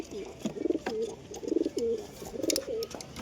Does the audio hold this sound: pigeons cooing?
yes